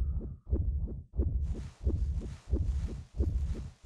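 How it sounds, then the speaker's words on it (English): A loud, slow heartbeat from the video game Clock Tower 3 thumps in six deep, evenly spaced beats about two-thirds of a second apart, with a soft hiss rising beneath from midway on. "That is a really, really loud heartbeat, ALYSSA."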